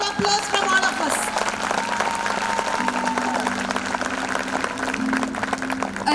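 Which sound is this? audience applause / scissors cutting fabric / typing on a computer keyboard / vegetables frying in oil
audience applause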